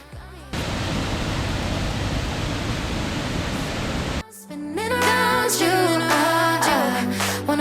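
The Aritz waterfall in the Pyrenees gives a steady, dense roar that holds evenly for about four seconds, then cuts off abruptly and gives way to music.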